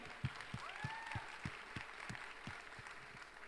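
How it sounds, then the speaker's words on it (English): Faint, sparse clapping from a tech conference audience for the chairman of Jio, a distant irregular patter of separate claps over a low room hum rather than a full ovation. "let's have another round of applause for the chairman of Jio"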